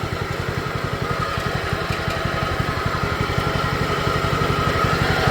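A 1969 John Deere tractor with a single-cylinder Kohler K241 engine runs while driving, a steady, rapid, close putter with even firing pulses that holds for the whole stretch at moderate loudness.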